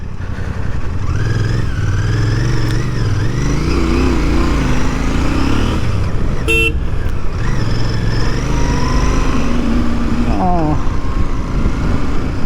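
A Royal Enfield Bear 650 motorcycle on the move, its engine droning loud and steady close by while the revs climb and ease in smooth swells.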